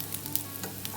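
Meatballs sizzling in a frying pan, a steady close hiss of hot fat with small crackling pops throughout the short stretch.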